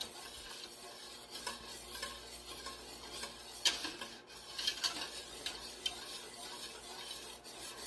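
A whisk stirs roux into milk in a pot for broccoli cheddar soup, a soft continuous scraping and swishing with light metallic ticks against the pot, quiet and close.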